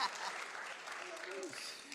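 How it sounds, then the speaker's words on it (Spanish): Audience applause in a church, steady clapping filling the room at a moderate level with voices mixed in throughout. "aplaudan si quieren"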